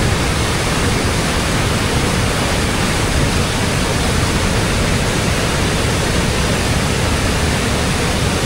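Water from a huge hillside waterfall crashing down at great force, a close, steady, overpowering wash of broadband roar with no other sounds breaking through.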